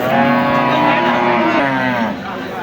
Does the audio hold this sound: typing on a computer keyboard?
no